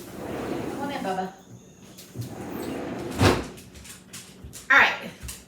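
A house door is opened and shut to let a dog in, giving a couple of sharp knocks and a firm thud over quiet room noise, with a person talking softly during it.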